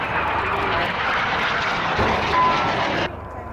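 Red Arrows jet aircraft performing an air display manoeuvre at an airshow roar steadily overhead, a loud sustained engine noise that cuts down sharply near the end, with faint crowd sounds beneath.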